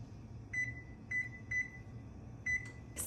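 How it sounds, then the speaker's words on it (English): An oven's control panel being set to preheat for baking gives a series of short, clear electronic beeps, about five evenly spaced, over a quiet kitchen hum. "we're just gonna preheat the oven"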